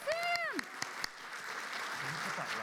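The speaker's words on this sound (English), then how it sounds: "let's give a round of applause for Sam here." Crowd applause at a PAX East 2022 convention panel, opening with excited cheers and whoops over the clapping, then settling into steady moderate clapping from the audience.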